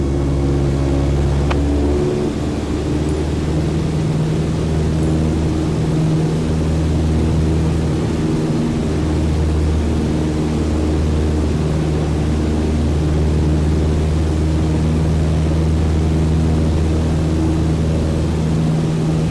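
A propeller airplane climbs after takeoff near an airport, its engine a loud, steady droning hum that holds throughout with slight swells in pitch and no voices.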